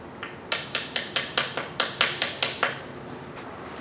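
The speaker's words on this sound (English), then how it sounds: "the little Mikugi hammer, and tap them in" A dozen light, sharp taps from a small mekugi hammer in an even rhythm, close by, tapping the pegs into a Ryan Sword Yamato replica katana, with no talking.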